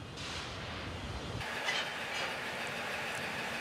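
A railway locomotive hauls molten-iron wagons through a steelworks, producing a steady, continuous rumble and clatter of wheels on track with a brief shift in tone partway through and no voices.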